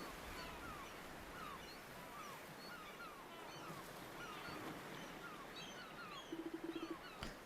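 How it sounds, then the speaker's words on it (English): Gentle waves wash onto an unfamiliar beach in the game Ys VIII: Lacrimosa of Dana, a soft continuous surf with faint bird-like chirps scattered over it and a brief rattling burst near the end. "All you can hear is the gentle sound of crashing waves."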